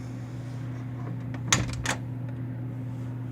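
A door opens with a short clunk and rattle, a brief burst that stands out over a steady low electrical hum.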